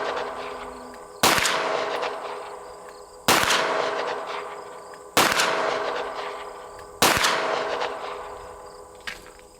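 Four loud Canik pistol shots ring out at a shooting range, evenly spaced about two seconds apart, each a sharp crack with a long echoing tail, close and without talk.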